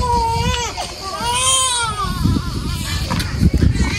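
A newborn girl cries loudly and continuously in wailing, rising and falling bursts, close by inside a camper van near a restaurant, with murmured adult talk in the background.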